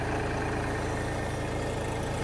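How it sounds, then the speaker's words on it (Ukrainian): Xingtai 240 mini tractor with a diesel engine idling steadily up close, a loud, even low throbbing rumble with no talk over it. "ви вже чуєте, як працює двигун в ID 385 на тракторі Сінтай 240"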